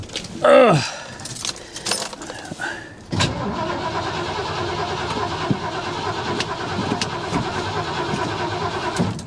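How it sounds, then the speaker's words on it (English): A car engine cranks over on a jump start and catches, settling into a steady idle; keys jangle briefly at the start. "All I want to do is verify that it cranks over."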